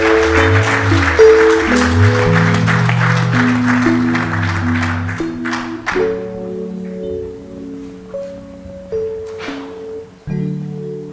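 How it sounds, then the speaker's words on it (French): Wedding guests at a ceremony applaud and cheer beneath loud sustained music, the crowd noise strongest in the first half before fading out while the music continues. "Est-ce que vous pouvez les encourager par vos acclamations?"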